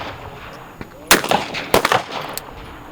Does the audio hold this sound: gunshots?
yes